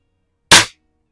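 A single sharp report from a Crosman side-lever air rifle firing, one loud, close crack that decays quickly into silence.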